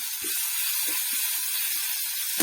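Chopped tomatoes dropped into masala frying in a little oil for a whole-spice eggplant dish give a steady, close, bright sizzle that runs without a break, with a few soft bumps and clatters in the pan.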